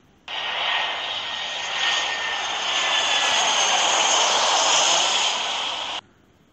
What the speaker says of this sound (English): Jet airliner.